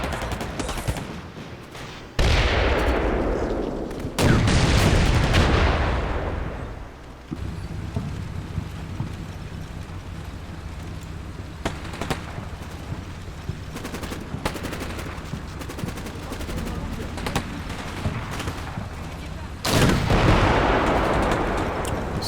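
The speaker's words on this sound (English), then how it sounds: "Using machine gun fire and cannon fire." Machine gun and cannon fire in the Combat Mission Black Sea war game, with loud blasts and sustained rattling bursts over continuous gunfire, near and heavy throughout.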